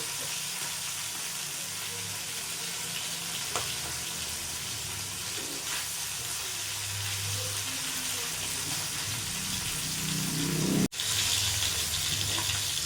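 Hilsa fish fries in hot oil in a pan, holding a steady, even sizzle throughout. A brief clatter comes near the end, likely as the fish is turned.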